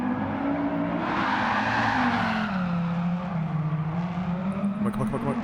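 An AWD car drifts in the video game Gran Turismo 7, its tires letting out a sustained, wavering skid squeal over a steady, loud engine drone for the whole stretch.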